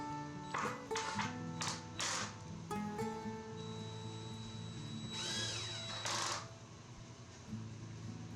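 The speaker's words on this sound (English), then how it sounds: "as you can probably hear, this screw was a little difficult to screw in" A stainless steel screw is driven with difficulty into a wooden charcuterie board to fix a handle: metallic clinks and taps, then a brief whining tool burst, close by and fairly quiet.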